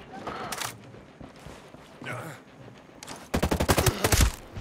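Bursts of rapid gunfire from the video game Ghost Recon Breakpoint, a quick volley near the end, with brief talk and clicks in between.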